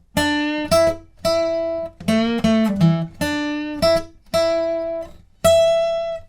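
Guitar playing a song's pre-chorus, with clean picked notes and chords struck in short repeated phrases with brief gaps between them, close and alone.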